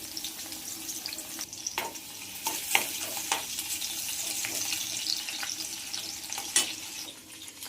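Garlic cloves sizzle and fry in hot oil in a kadai, a steady close crackle broken by scattered sharp pops and spatters, with no talking.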